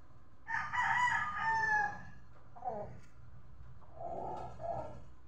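Roosters crow close by, one long loud call followed by two shorter, fainter crows, over a quiet farmyard background with no voices.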